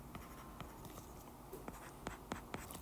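Math is written on a board, giving a quiet run of light scratchy strokes and taps with a few sharper ticks toward the end, no speech.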